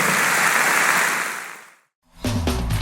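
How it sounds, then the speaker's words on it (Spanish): Church congregation applauding in a broad, dense wash of clapping that fades away after under two seconds, followed by silence and then the start of music. "Dale un aplauso grande al Señor."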